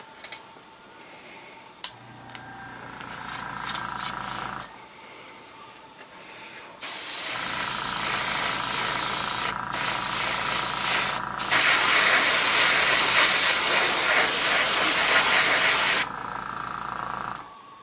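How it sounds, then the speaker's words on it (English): An airbrush spraying a thin mist of chipping fluid gives a soft hiss. Short bursts and quiet gaps come first, then a long, loud continuous spray with brief breaks, stopping near the end. "You can just kind of like do like a thin mist coat from a little farther away."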